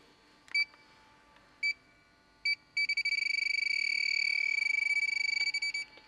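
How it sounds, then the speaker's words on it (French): A hydrogen leak detector gives a few short electronic beeps spaced apart, then a rapid continuous stream of high beeps that runs for several seconds before stopping as it finds a leak. "Comme vous pouvez l'entendre, il émet un bip."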